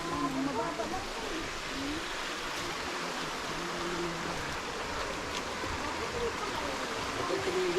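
A river flows in a steady, broad rushing wash outdoors, continuous and moderately loud, with faint voices and chatter mixed in at times.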